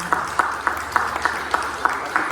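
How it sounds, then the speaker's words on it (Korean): A small church congregation claps for two deacons' birthdays at a Sunday service, sparse and rhythmic with about eight evenly spaced claps, fairly close and moderately loud. "우리 마음을 다해서 우리 박수로 한번 축하하겠습니다"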